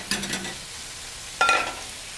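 Sliced button and portobello mushrooms cooking down in a pan, heard as two short bursts of sizzling and stirring separated by a quiet pause.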